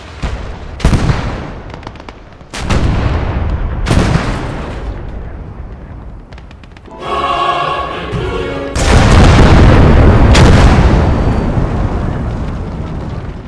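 Mortar shells and artillery bursting in the Gates of Hell war game, a series of loud, close booming blasts with long rumbling decays, separated by short gaps and a burst of crackling debris.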